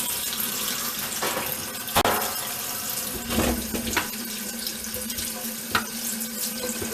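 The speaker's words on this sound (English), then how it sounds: "give it a solid wash, proper wash, soak everything that I've prepared" Tap water pours steadily into a sink while freshly removed deer antlers are washed and left to soak, a constant close splashing rush broken by a few soft clunks.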